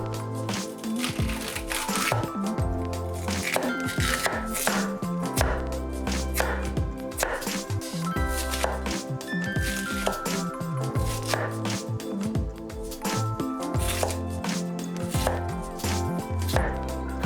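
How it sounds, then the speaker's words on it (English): A kitchen knife trims the hard root end off bamboo shoots, producing rapid, steady chopping and cutting knocks on a board, close and fairly loud, over soft background music with no voices. "Cut away the hard part of the root."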